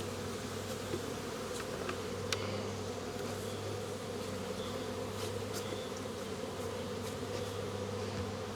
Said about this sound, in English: Sweeping the bees off the box.